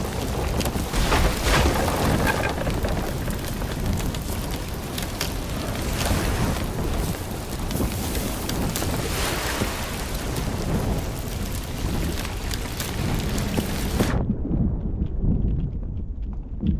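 A storm at sea in a pirate game brings heavy, continuous rain and rumbling wind with bursts of thunder, loud and steady until it cuts off abruptly near the end.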